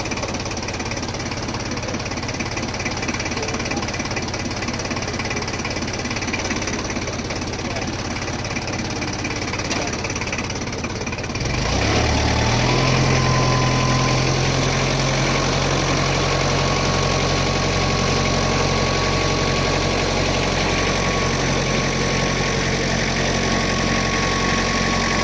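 A forklift engine starts and runs at a steady idle during a vehicle inspection, loud and close, with a low constant drone following an earlier stretch of broadband noise.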